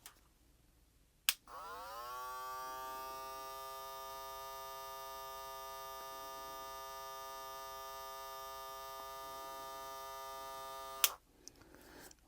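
A Wahl Vapor Limited Edition hair clipper with a brushless rotary motor switches on with a click and runs at a steady, even high-pitched buzz for about ten seconds, then clicks off; no talking.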